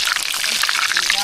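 An eggplant omelette fries in a pan with a steady, close, crackling sizzle that holds its level throughout.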